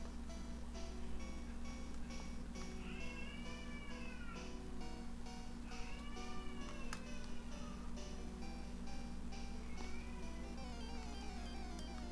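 A house cat meows repeatedly in a run of rising and falling cries, fairly close and clear over a steady low electrical hum, with no talking.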